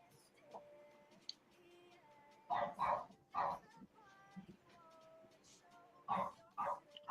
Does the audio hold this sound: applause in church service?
no